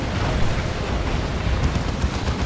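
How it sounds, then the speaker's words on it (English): Missile explosions in the Warhammer 40,000 strategy game Dawn of War 2 during a 3v3 battle, a dense, loud rumbling blast noise that fills the whole stretch without pause. "Another missile hit."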